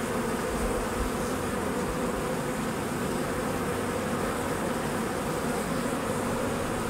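Honey bees from a newly installed package swarm around an open hive as the inner cover goes back on, a dense steady buzzing drone that holds close and constant throughout, with no talking.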